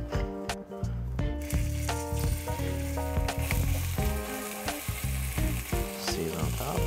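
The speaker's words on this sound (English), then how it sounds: "We're gonna give it a nice hot sear." Scallops sear in hot oil in a pan with a loud, continuous, crackling sizzle, close up and constant throughout.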